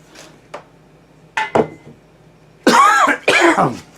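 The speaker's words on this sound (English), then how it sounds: "And coughing." A few short coughs and throat clears, close by, with quiet gaps between, ending in two louder, longer coughing bursts.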